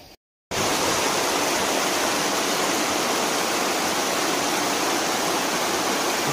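Water rushing through the Krishna Raja Sagara dam near Mysuru, a steady, loud, dense roar that starts abruptly after a brief gap and continues unbroken.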